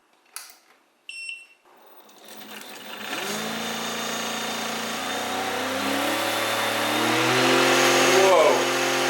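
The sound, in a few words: homemade brushless LEGO motor spinning a 3D-printed propeller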